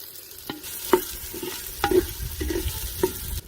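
Chopped tomatoes dropped into hot oil with grated ginger and peanuts for a Marathi mixed khichdi tempering, giving a soft sizzle broken by several sharp stirring clacks of a spoon against the pan.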